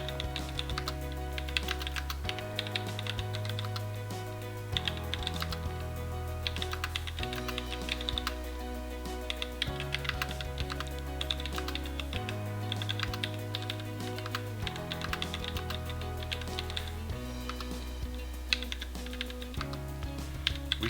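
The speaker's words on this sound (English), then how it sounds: "Okay, and we continue typing the document." Continuous clicking of a computer keyboard as a document is typed, steady keystrokes over a low sustained musical background, no talking.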